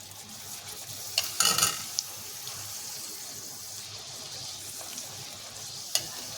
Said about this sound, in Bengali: এর মধ্যে আমি পাঁপড়গুলো দিয়ে এখন ভেজে নেব